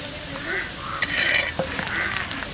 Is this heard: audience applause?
no